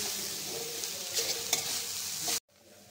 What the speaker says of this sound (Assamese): এইখিনি দিয়াৰ পাছত অকমান সময় ভালদৰে লৰাই লম